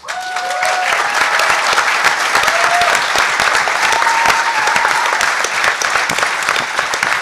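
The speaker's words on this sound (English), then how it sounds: "For those of you who don't know why they're applauding" Panel audience applauding at a hacker conference: steady, dense clapping from a crowd fills the whole stretch at a constant loud level, with a few faint voices and whistles mixed into the applause.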